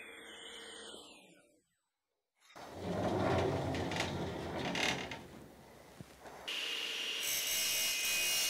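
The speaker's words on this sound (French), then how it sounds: "je coupe à la scie le patin de plastique et les ailes en aluminium." A hand saw cuts through a plastic pad and aluminium wings in a workshop, making steady rasping strokes up close. One brief pause breaks the cutting before it resumes.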